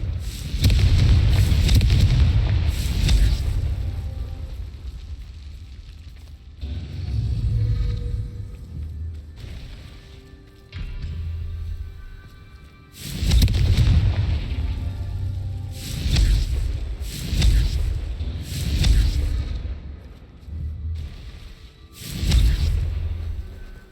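Confringo fire-blast spells going off in the Hogwarts Legacy video game, heavy booming blasts with whooshing rumble that swell and fade in several bursts, loud and close with game ambience between them.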